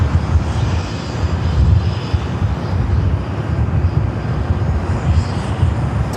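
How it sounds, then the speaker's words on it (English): KLM airliner taxiing to the south side for takeoff at LAX, a steady low engine roar with broad rumble, loud and unbroken, mixed with wind buffeting on the microphone. "it looks like KLM is heading to the south side for a takeoff."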